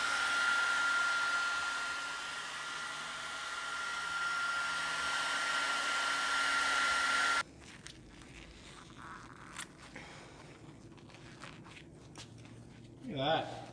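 A hair dryer runs with a steady, close whooshing whir for about seven seconds during a 2018 Honda Civic Si E85 kit install, then shuts off, leaving quiet clicks and handling noises.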